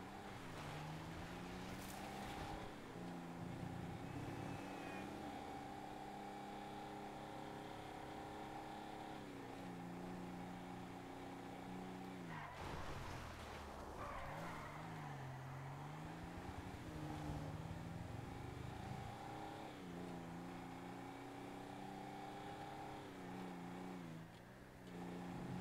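A car driven in GTA 5, its engine droning steadily with repeated rising and falling revs as it accelerates and shifts, close and continuous for the whole stretch, with no talking.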